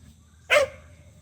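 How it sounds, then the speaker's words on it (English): A single sharp dog bark, close and loud, against a quiet background. "he's barking at the pigs."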